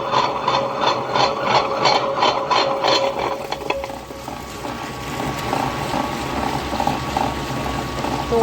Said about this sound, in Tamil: கிரைண்டர் ஆன் பண்ணுறேன்.